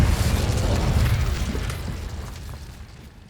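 A Confringo spell explosion in Hogwarts Legacy, a heavy booming burst at full loudness that rumbles and slowly fades away over a few seconds, with no talking.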